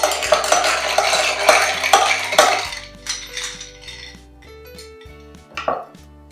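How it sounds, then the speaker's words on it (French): A spoon clinks and swirls against a glass while stirring amaretto and milk, a quick run of close metallic taps and scrapes that thins out into sparser, ringing knocks toward the end. "On va mélanger un petit peu juste pour que notre amaretto et notre lait se mélangent bien"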